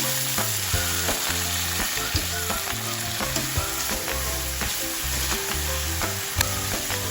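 Garlic, onion and four sliced tomatoes sauté in a pan for ginisang ampalaya, with a steady close sizzle and frequent clicks of the spatula against the pan throughout.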